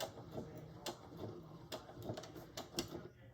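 A sewing machine stitches a quilted boxy bag, giving faint, irregular clicks and mechanical ticks over a soft hum at close range, with no talking.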